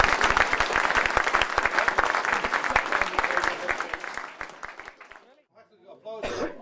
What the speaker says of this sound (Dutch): Hartelijk applaus voor al diegenen die zich ingezet hebben voor